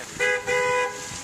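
A car horn honks twice in quick succession, loud and close, each blast a short steady tone, during a roadside honk count in North Dakota.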